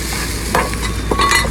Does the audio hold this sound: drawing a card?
no